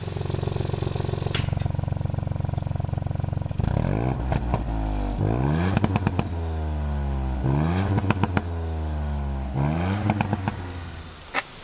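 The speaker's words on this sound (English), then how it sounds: "listen to this valve sound" A 2019 MK8 Ford Fiesta ST engine revs repeatedly with rising and falling sweeps, sharp pops and crackles from the exhaust valve in sport mode between blips, loud and close.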